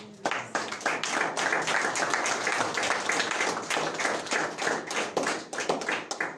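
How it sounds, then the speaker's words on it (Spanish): Clapping from a church congregation during a Sunday service, dense and steady for the whole stretch, close and loud, with no voices over it. "¿Cuántos le pueden dar un aplauso al Señor por su obra?"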